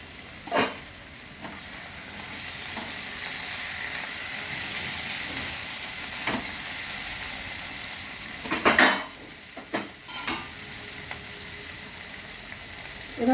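Stirring vegetarian banana flower curry (mochar ghonto) in a pan over a steady frying sizzle, with occasional sharp scrapes and clinks of a utensil against the pan.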